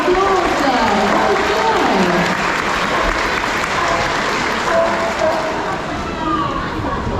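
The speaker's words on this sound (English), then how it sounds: "Give them both a big round of applause there." A large outdoor crowd at a safari park sea lion show applauds, a loud, dense wash of clapping holding steady, with faint voices and a higher animal-like call drifting beneath it.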